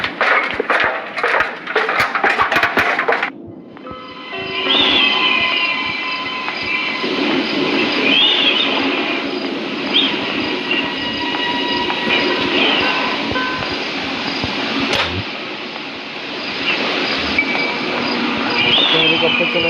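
A train runs in the Granny Chapter 2 video game, a steady rolling rumble with high metallic squeals and tonal whines rising and falling over it. The sound is loud and continuous after a brief noisy opening.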